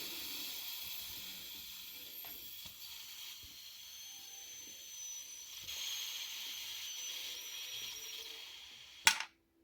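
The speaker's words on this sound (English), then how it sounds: "I just released the pressure back here, and that's the hissing you hear" Steam hisses steadily from the vent of an Instant Pot as its pressure is released while chicken orzo soup cooks, a broad continuous rush ending in a sharp click.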